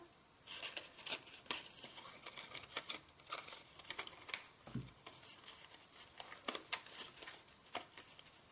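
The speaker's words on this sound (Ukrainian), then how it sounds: "Де-не-де доведеться підрізати нож, підрізати ножицями." Scissors trimming cardstock around a card cut by a Cricut Expression electronic cutting machine, heard as quiet, close, irregular snips and paper rustles with faint handling sounds in between.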